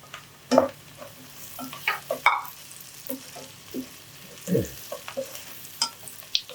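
Onions and tomatoes sauté in a pan for a paneer butter masala, with irregular scraping stir strokes and short bursts of sizzling, close and fairly quiet, no voices.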